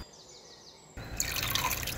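Warm water running from a tap while a muddy toy monkey is washed, a faint drip at first, then a steady hissing splash of flowing water for the second half.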